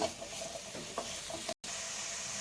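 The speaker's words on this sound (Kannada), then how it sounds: "ಸ್ವಲ್ಪ ಮಶ್ರೂಮ್ನ ಫ್ರೈ ಮಾಡ್ಕೊತೀನಿ ಎಣ್ಣೆಯಲ್ಲಿ ಒಂದು 2 ನಿಮಿಷ ಚೆನ್ನಾಗಿ." Mushrooms fry in oil in a pan for a mushroom gravy, giving a steady close sizzle with light stirring scrapes throughout, broken by one very brief gap, with no one speaking.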